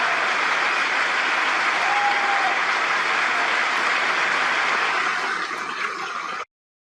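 Government members stand applauding and cheering a speech, with a dense, continuous roar of clapping at even volume that slightly thins before cutting off abruptly.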